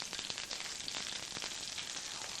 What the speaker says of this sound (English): They're going to go into the frying pan,